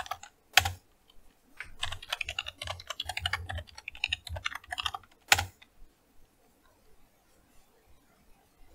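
Keys clatter on a computer keyboard as a password is entered, with a couple of louder isolated keystrokes bracketing a quick burst of steady typing, close and clear before it falls quiet.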